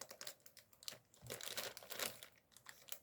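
A plastic wrapper on a Pokémon bread sticker pack is torn open, giving faint, close crinkling and crackling in uneven bursts.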